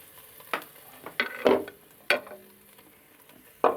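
Capsicum, carrot and cabbage stir-fried for chicken fried rice, with a soft steady sizzle broken by several sharp clattering spatula strokes against the pan, close and without talk.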